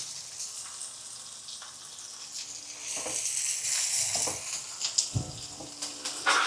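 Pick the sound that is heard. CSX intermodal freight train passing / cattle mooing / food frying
food frying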